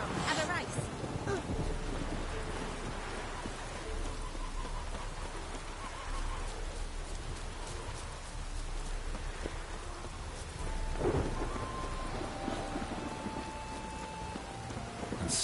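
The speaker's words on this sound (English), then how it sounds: "Storm, damn it." Rain pours steadily in The Witcher 3 during a storm, a constant hiss of drops hitting surfaces, with voices speaking over it and a brief louder swell partway through.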